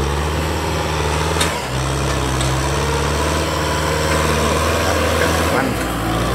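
A Kubota M6040SU tractor grading soil runs with a deep, steady diesel rumble and strong low hum, loud and close, with a brief dip in the engine note and a few clanks partway through.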